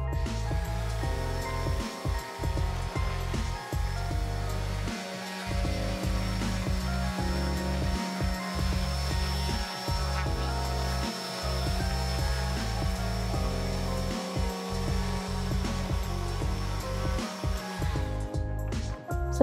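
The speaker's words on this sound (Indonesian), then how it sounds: "Kemudian, amplas kembali permukaan hasil pengerjaan dempul." Power sanding of hardened wood putty on a window frame, a steady, loud whirring drone that runs almost unbroken for the whole stretch with slight dips and no voices.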